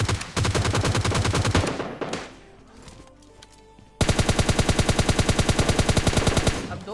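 Automatic gunfire in a PUBG Lite firefight, with dense rapid bursts of loud shots, a short lull with scattered distant reports, then another sustained close burst.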